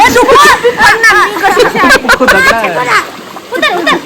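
Several people splash water outdoors, with repeated close splatters mixed with lively overlapping voices and chatter throughout.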